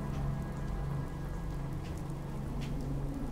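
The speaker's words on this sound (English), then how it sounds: "Man, I hate the rain." Steady rain falls in the video game Fallout 4, a dense continuous hiss of drops spattering on surfaces with a low hum running underneath.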